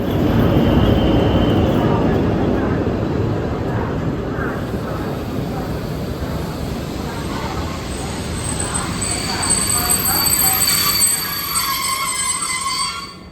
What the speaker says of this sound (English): our electric locomotive is being detached and replaced with a diesel locomotive